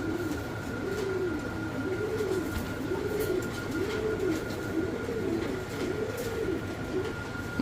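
A Bombai pigeon coos in a steady repeating rhythm of soft, rolling calls, close and clear, over a constant background hum and a faint steady tone.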